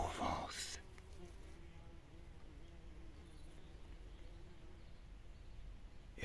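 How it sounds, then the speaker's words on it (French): Bees working over Provence lavender flowers make a soft, steady buzzing hum, faint and continuous, with a brief louder rustle at the start and end. "Et on peut y voir déjà les abeilles travailler"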